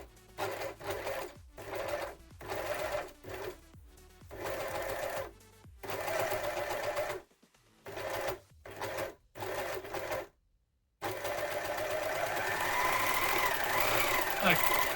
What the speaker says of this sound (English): I'm going to overlock the edge again